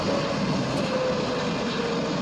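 A steady, loud roar of an airliner's engines as the plane touches down on the runway at Shahjalal International Airport, a continuous broadband rush with a faint tonal whine running through it.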